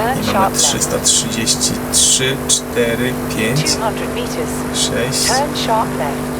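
Audi RS 7 with 4.0L 605 HP engine running flat out at top speed on a night drive, a steady loud drone of engine and wind filling the cabin, with a voice speaking over it.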